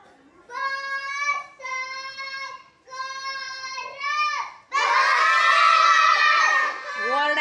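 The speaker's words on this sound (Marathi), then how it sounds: "ओरडायचं नाही, ओरडायचं नाही." Loud group of children shouting and chanting words together in a classroom reading contest, several rhythmic bursts of unison voices followed by a louder burst of overlapping shouts.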